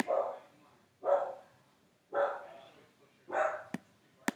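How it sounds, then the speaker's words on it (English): Four evenly spaced barks from a dog next door, about a second apart, each fairly loud and clear, followed by a couple of faint clicks. "There's a dog next door."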